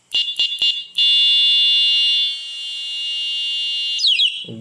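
A very loud electric horn for a bicycle blasts several short shrill beeps, then one long piercing continuous tone, shifting pitch near the end before stopping, up close with no talking.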